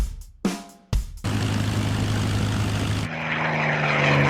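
A P-51 Mustang propeller fighter's piston engine drones loud and close after a few choppy bursts, its deep steady roar shifting in tone partway through, with no voices.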